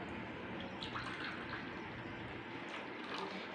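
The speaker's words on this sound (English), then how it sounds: "I am going to pour some water in a cup." Water is poured into a cup in a steady soft trickle that runs unbroken for a few seconds at close range.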